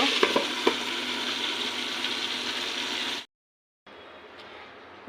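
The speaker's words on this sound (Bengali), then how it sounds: "এখানে আগে ভেন্ডি ভাজিটা করে নিচ্ছি" Okra (bhindi) frying in a pan makes a steady, dense sizzle, with a few spoon scrapes against the pan at the start. The sizzle cuts out abruptly for a moment, then resumes more quietly.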